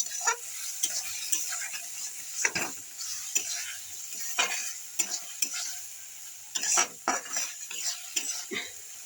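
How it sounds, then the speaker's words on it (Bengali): Curry fries in a pan under a steady bright sizzle, with a spoon repeatedly scraping and clinking against the metal as it is stirred, close and continuous for several seconds. "ভালো করে ভেজে নেব।"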